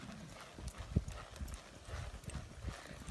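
Horse hooves clip-clop in a steady trotting rhythm on firm ground, close by, with a few louder strikes standing out.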